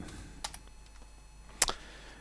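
A few quick computer keyboard keystrokes tapped at close range, two short clusters of clicks with quiet gaps between them and no talking.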